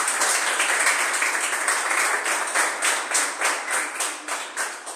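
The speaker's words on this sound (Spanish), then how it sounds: "a la doctora Adriana Janet Miranda Martínez, para quien pido un fuerte aplauso." An audience applauds at a morning lecture on Valley of Mexico megafauna, a dense wash of many hands clapping that thins into scattered, rhythmic claps toward the end.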